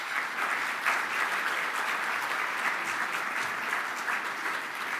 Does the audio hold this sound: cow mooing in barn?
no